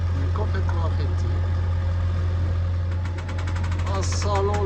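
Auxiliary inboard motor of a sailboat running on a trip in Greece near Porto Cheli, Spetses and Poros, a steady low engine drone with voices talking over it.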